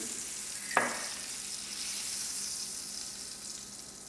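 Wagyu beef fries in a pan with a steady, soft sizzle throughout, close and even, with a single sharp clink near the start.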